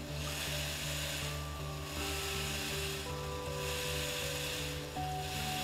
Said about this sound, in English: Here, we see the rear wash with adjustable nozzle position.